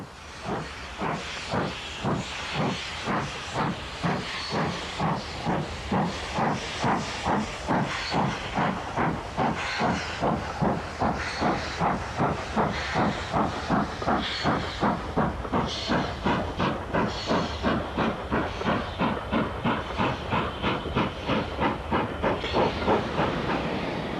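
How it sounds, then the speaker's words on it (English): Steam locomotive working hard in the snowy high fells in 1996, its exhaust beating in a steady rapid rhythm of loud chuffs with hissing steam throughout, close and strong, with no voices. "this scene captures the atmosphere of steam in the high fells"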